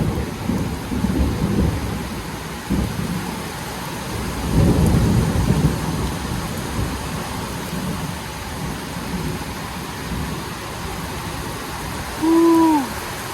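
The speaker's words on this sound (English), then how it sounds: "There's the thunder." Deep rolling thunder rumbles through a rainstorm on a terrace, over a constant hiss of falling rain and wind. A louder swell comes midway, and a brief whistling call sounds near the end.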